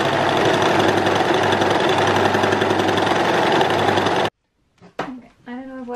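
A sewing machine runs steadily and loudly for about four seconds while it stitches a skirt closed. It then stops abruptly, and a voice briefly speaks afterward.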